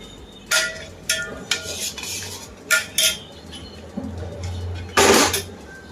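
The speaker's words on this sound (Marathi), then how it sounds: "ठेवल्यानंतर ही कंटिन्यू हलवत राहायचंय" Milk is stirred in a metal pot on a gas stove, with scattered clinks and scrapes of a utensil against the pot over a low background hum.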